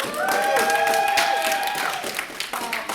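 Audience applause at an open mic comedy show at an anime convention, a crowd clapping steadily for the whole stretch with scattered voices and cheers mixed in.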